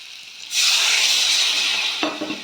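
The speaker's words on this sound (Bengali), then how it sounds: "এখন জল ঢেলে দেবো" Water is poured into a pan of sizzling potato and spice masala fried in oil for rui fish kalia. A sudden loud, broad hiss bursts up and holds for about a second and a half, then eases into a softer bubbling sizzle, close by with no talking.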